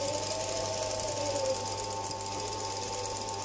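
A sewing machine stitches a basting line along a piece of fabric, its steady fast whirring hum running loud and close without pause and with no talk.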